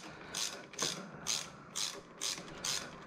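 A hand ratchet clicks steadily while the outside bolts come off a Harley Sportster during a pushrod leak repair, six even bursts of rapid pawl clicking, close and clear with nothing else heard.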